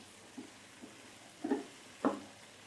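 Carrots, potatoes and peas are stirred in a frying pot, giving a few quiet scrapes and soft sizzling bursts, the last two louder, over a low background.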